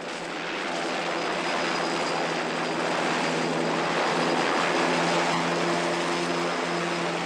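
Helicopter in flight, a continuous loud rotor and engine drone holding steady throughout with a constant tonal hum, no voices.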